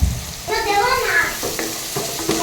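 Vegetables frying in a pan with tomato, salt, turmeric and ground coriander, giving a steady close sizzle with stirring scrapes, a brief tonal squeal partway through.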